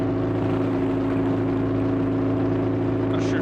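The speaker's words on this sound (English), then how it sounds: "It's kind of a loud engine." A yacht engine in the eSail Yacht Sailing Simulator video game drones loudly and steadily, a constant low mechanical hum with strong tonal bands that never lets up.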